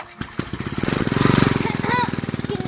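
Cartoon motorcycle engine running, a loud, rapid, rough putter with steady pulsing beats, revving up briefly, with a high squeaky tone over it near the end.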